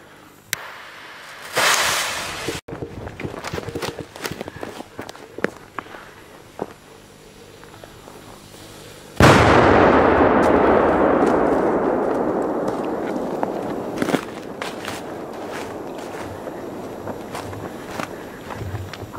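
Polish firecrackers Bopra 8 and Tuono Classic go off outdoors: scattered sharp cracks and pops over the first seconds, then one huge blast followed by a long crackling, hissing decay.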